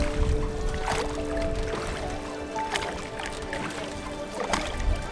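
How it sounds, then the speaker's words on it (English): A river boat glides through calm water in Ninh Binh, Vietnam, with soft continuous lapping and splashing against the hull and a few brief louder splashes, close and steady throughout. "The only thing I can hear is the sound of the boat going through the water."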